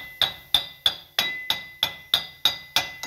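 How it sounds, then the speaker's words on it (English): Brass hammer tapping lightly on a 2004 Dodge Ram 1500 4x4 Hemi front hub bearing, about ten even metallic strikes, each with a short ringing decay, close and alone. "Got me a brass hammer. You just want to tap it lightly on the,"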